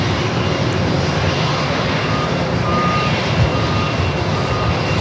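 Boeing 737-900 jet airliner at San Diego airport, bound for Houston, giving a loud, steady, close engine roar that holds evenly throughout, with faint beeping in the background and no speech.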